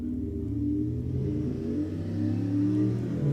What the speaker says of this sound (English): You guys hear that? That guy on his motorcycle?